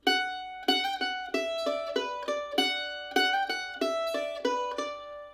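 A bright mandolin plays a short, evenly picked phrase of Saint Anne's Reel, each note ringing and decaying, alone and close.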